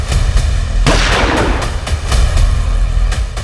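A single sharp gunshot bursts out in a TV crime drama scene, a loud close crack with a brief decaying tail, set against a steady low background rumble.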